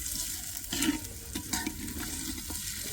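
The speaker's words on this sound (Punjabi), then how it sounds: "ਪਿਆਜ਼ ਲਸਣ ਭੁੱਜ ਗਏ ਚੰਗੀ ਤਰ੍ਹਾਂ" Onion and garlic fry in a pan with a constant hissing sizzle, broken by scraping stirs and light clatters of a ladle.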